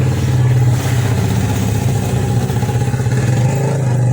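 A 2022 Honda Scoopy scooter with a battery that keeps draining being kick-started, its engine cranking and chugging in a loud rough rhythmic pulse close by, without letup.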